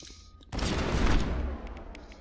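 Gunfire in the Mass Effect video game erupts suddenly after a brief lull and becomes a dense, sustained volley of rapid shots, loud and close, fading slightly toward the end.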